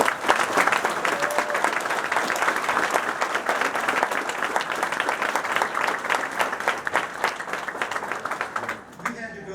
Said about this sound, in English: how about a nice round of applause for all of the construction workers who made this possible for us